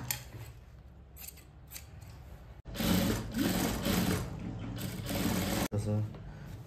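Scissors cut through plain blouse fabric in a few close, crisp snipping and crunching strokes that follow a quieter stretch of handling. Someone talks softly over the cutting.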